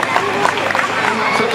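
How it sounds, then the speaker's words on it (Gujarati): Audience clapping at a school annual function swells into a steady, dense wash of applause, with a voice speaking over it throughout. "ખૂબ સરસ તાળીઓના ગડગડાટથી વધાવીએ."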